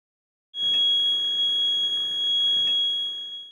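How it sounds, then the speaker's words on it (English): A Bascom Turner Gas Explorer gas detector sounds its acoustic alarm, a loud, steady high-pitched electronic tone that starts abruptly and holds for about three seconds with a brief pulse midway. "the middle button can be used to mute the acoustic alarm"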